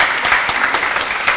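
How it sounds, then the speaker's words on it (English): Audience at a school award ceremony clapping for a winner, a dense burst of applause from a crowd, close and loud, with no speech over it. "So can we have a hand for Mia"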